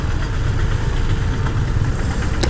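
A motorbike engine idles close by with a steady, low throbbing rumble that holds an even level for a couple of seconds, no voices present.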